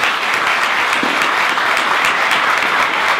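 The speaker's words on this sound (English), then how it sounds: "Please join me in giving a warm round of applause to our panelists" An audience at a prison-themed panel discussion gives the panelists a warm round of applause, with even, continuous clapping from many hands throughout.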